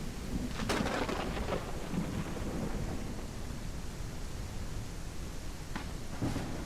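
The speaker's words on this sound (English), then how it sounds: "Storm is crazy, isn't it?" Heavy rain pours steadily through a video game thunderstorm, with rumbling thunder cracks rising near the start and again toward the end, no voices over it.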